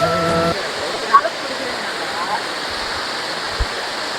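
Steady broadband rush of a waterfall at Pachamalai, continuous and fairly close, with a brief voice and a few small knocks over it.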